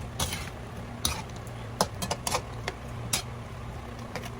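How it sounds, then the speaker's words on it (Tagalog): A spoon stirs pineapple chicken with chili, bitter gourd and pineapple in a pan, giving scattered, uneven scrapes and clinks of metal against metal over a low background hum. "So, haluin lang po natin."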